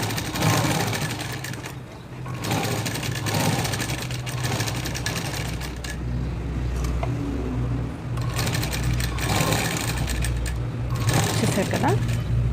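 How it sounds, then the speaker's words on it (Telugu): Sewing machine stitching the front part of a blouse, a loud, steady mechanical whir with a low motor drone, briefly pausing between runs while someone talks over it. "ఇప్పుడు ఇలా హోల్డింగ్ చేసుకొని మళ్ళీ కుట్టుకోండి"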